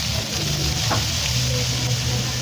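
Chicken feet sauté with garlic and onion in a pan, a steady close sizzle with faint stirring, no one talking.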